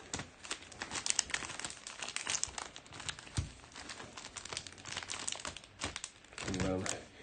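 Foil Prizm Soccer trading card packs shuffled in the hands, giving a continuous close crinkling and crackling with sharp rustles throughout, while a person talks quietly over it.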